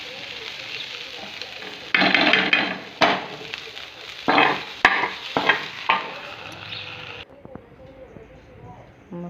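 Leftover fenugreek greens being reheated on a flat griddle: bursts of stirring and scraping with soft sizzling fill the middle seconds, then settle into quieter kitchen background with a faint voice nearby.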